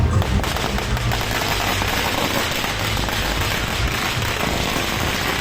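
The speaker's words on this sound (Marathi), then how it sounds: "बाजूंनी मला बघून फटाके वगैरे फोडले" Firecrackers bursting at an outdoor welcome gathering in Amravati, a dense, continuous crackling barrage that stays loud and close from start to finish with no talk over it.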